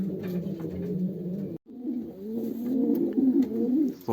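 A racing pigeon coos close by, its low throaty rolling calls repeating almost continuously with a brief break, alone without talk.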